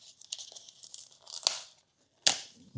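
Tape is torn and peeled from the packaging of a Baseus PicoGo 5,000mAh ultra-slim magnetic power bank, with crinkly ripping through the first part and two sharp, loud rips near the middle and end.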